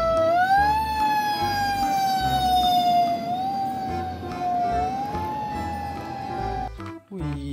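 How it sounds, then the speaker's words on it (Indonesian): A red toy fire truck's siren wails loud and steady, its pitch rising and falling in slow sweeps, with a brief cut near the end; a voice talks over it. "Ini ada mobil pemadam kebakaran teman-teman"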